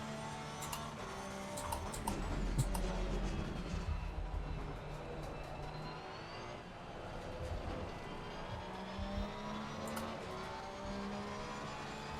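A race car laps Silverstone in Assetto Corsa Competizione, its engine note climbing and falling through gear changes and braking zones, with a constant tone and faint ticks over the game audio.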